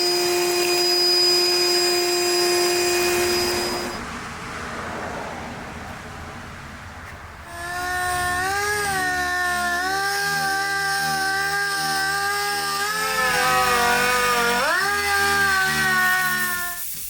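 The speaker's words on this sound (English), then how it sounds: "Finish sand all this and then we'll be ready to prime." Power sander finish-sanding body filler on a car panel, a steady motor whine that stops, leaving a quiet gap, then restarts and wavers in pitch as it works the surface, loud and close, with no talk.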